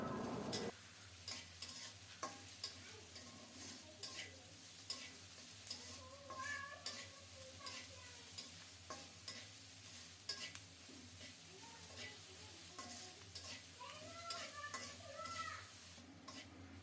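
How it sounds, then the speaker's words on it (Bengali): Steady low sizzling of frying onion and garlic in a pan, with a spoon scraping and stirring at intervals, no talking. "রসুনের সাথে পেঁয়াজটাকেও নেড়ে চেড়ে ভেজে নিচ্ছি"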